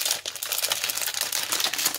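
Plastic packaging on a Beebeecraft card-making kit is opened, giving a steady, close crinkling and rustling with small tapping clicks throughout the short stretch.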